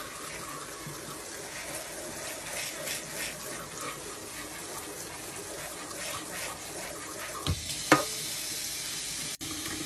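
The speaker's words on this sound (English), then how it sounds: "we are gonna rinse the wash and dye from Namaste Farms, the conditioner soap, out of these locks gently" Wool locks rinsed gently by hand in a sink of water, washing out conditioner soap, giving a steady soft splashing and trickling wash with a couple of sharper sloshes near the end.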